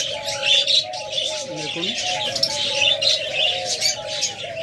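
A pair of Japanese pet birds, double-flower type, calling with a busy run of chirps and tweets alongside soft cooing, steady and close throughout, with someone speaking briefly over them.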